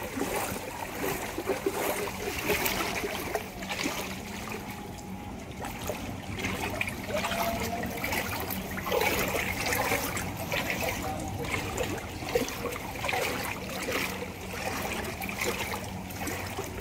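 Steady trickling and splashing of floodwater in a street in Malabon City, Philippines, with faint sloshing movement, moderate and continuous, with occasional distant voices.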